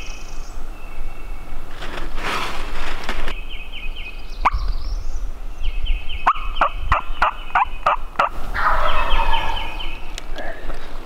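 Wild turkey sounds on public land during a hunt: loud gobbles and rapid clucking yelps burst out close by, alongside sharp clicking calls and a low hum of ambient insects and wind, with no speech.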